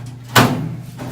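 A drawer is pulled open with a single close, hollow thump and a short fading rattle afterward; no one speaks.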